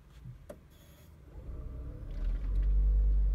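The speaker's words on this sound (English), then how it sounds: "So the engine is starting immediately." A Toyota Auris Hybrid's petrol engine starts up, its low rumble building and settling into a steady, fairly close idle after a quiet few seconds.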